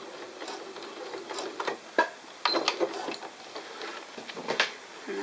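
A sewing machine stitches elastic with a few stitches and then a lock stitch, making quick, light, irregular mechanical ticks and clicks at close range, with no voice over them.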